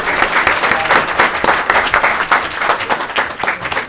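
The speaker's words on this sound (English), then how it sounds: "let's give a round of applause to the panelists for their presentation" Loud, close audience applause for panelists after a historical presentation on U.S. intelligence estimates, a dense steady patter of many hands clapping without speech.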